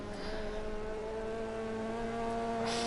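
A Renault Clio Cup race car accelerates flat out at Donington Park, its engine droning at high revs as a steady buzzing note rising slightly in pitch, loud and continuous without pause.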